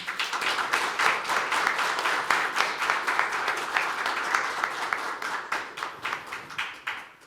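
Audience applause at a Korean forum on disability personal budgets, as guests are introduced: dense, sustained clapping from a room full of people, steady throughout and thinning toward the end.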